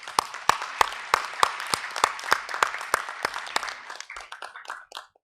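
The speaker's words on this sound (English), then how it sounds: "Please give him applause again," Audience applause at a ministerial meeting on African rice farming, a run of sharp, evenly spaced claps that grow dense and then thin into scattered claps before stopping.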